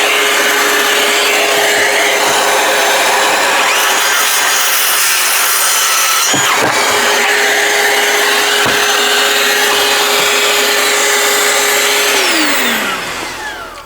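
A DeWalt 12-volt saw cuts steadily with a portable vacuum running as dust extraction, a loud, continuous, close whine and rush with a few brief knocks, which winds down at the end.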